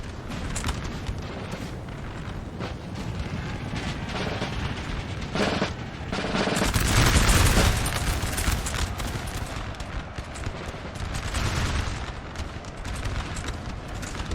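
Massed musket gunfire rattles through a Napoleon: Total War battle, a dense continuous crackle of volleys with a louder swell of rumbling fire midway, heard without talk.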